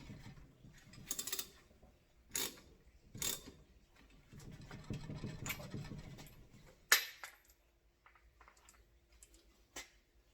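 Cranking a hydraulic steering hose into its fitting produces a series of sharp, close ratcheting clicks and mechanical clunks at irregular intervals, with quieter handling sounds between them.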